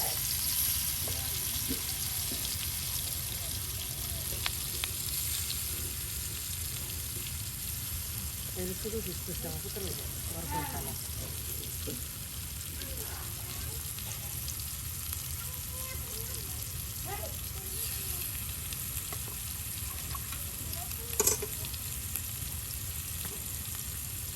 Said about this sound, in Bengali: প্রথমেই বোয়াল মাছের এই যে আপনার পিসগুলা ভেজে নেওয়া হচ্ছে।